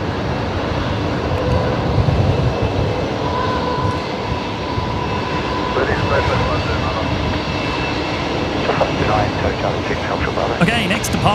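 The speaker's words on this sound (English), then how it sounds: "Qantas 627. It is rolling now, the 73 heading down to Melbourne." A Qantas Boeing 737 jet rolls for takeoff at Brisbane, its engine roar a steady distant rumble that swells slightly toward the end, with a voice speaking over it.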